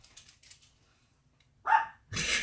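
A Pomeranian dog barks to go outside, one sharp close bark and then a louder burst, after faint clicking sounds at the start.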